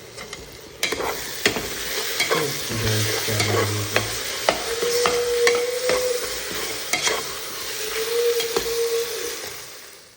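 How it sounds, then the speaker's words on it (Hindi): Chicken hits hot oil with onions fried deep red and whole spices, giving a steady close sizzle with repeated scrapes and knocks of a stirring spoon throughout. "अब चिकन जो है उसमें जाएगा।"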